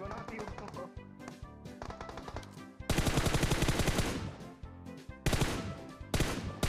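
Gunfire from the PUBG Mobile video game comes in rapid automatic bursts and dense crackling volleys that stop and restart. The shots are loud and continuous across the whole stretch.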